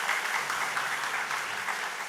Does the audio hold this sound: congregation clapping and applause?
yes